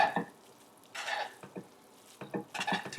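Pasta tossed with pesto in a pan makes soft, irregular scraping and squelching bursts of stirring, close and fairly quiet, with brief pauses between strokes.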